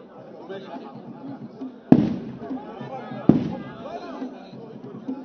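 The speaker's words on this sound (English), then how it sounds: "That is the traditional gun salute of Ikure people, heralding the conference of chieftaincy title on His Excellency" Two loud, sharp blasts of a traditional Ikwerre gun salute at an outdoor chieftaincy title conferment during a civic reception, spaced about a second and a half apart, each ringing out over a steady murmur of crowd chatter.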